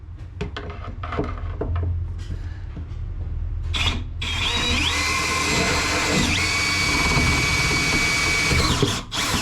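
A power drill bores large holes at the corners of a cutout aboard a boat. A few short knocks and handling noises come first, then the drill runs loud and steady for several seconds before stopping.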